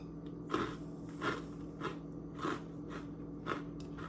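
Crunchy peanut butter Captain Crunch cereal is chewed in a series of soft crunching bites, about five evenly spaced crunches in a few seconds, close to the mouth with a quiet background.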